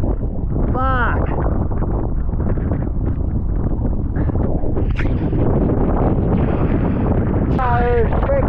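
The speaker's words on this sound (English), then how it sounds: "That is freaking windy and really horribly gusty, unfortunately." Strong offshore wind at a kitesurfing spot roars steadily into the microphone in heavy buffeting gusts, with a voice speaking briefly under the noise.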